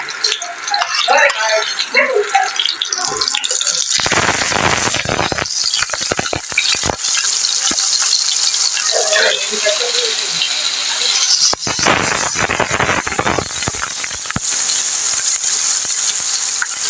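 Pumpkin leaf fritters frying slowly in hot oil, a steady broadband sizzle running the whole time with bursts of stirring and utensil clatter and some rattling; no talk.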